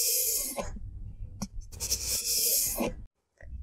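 A knife blade is drawn back and forth over a coarse strop in several quick, raspy strokes, each a soft brushing scrape close by, separated by short pauses and ending in a brief silence.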